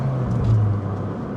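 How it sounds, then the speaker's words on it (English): The small engine of a 2014 Fiat 500 Abarth growls low and steady while driving, a close droning rumble heard from inside the cabin with a slight shift in pitch. "this growl from this very small but a mighty engine"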